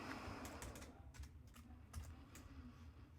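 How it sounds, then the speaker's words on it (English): Quick taps on a computer keyboard, a short burst of irregular keystrokes heard up close in a quiet room while typing into Reaper 7 audio software. "I just started typing in here"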